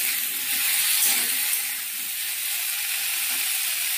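Potato curry frying in a pan gives off a steady, close sizzle with a soft hiss that stays even throughout, and there is no talking.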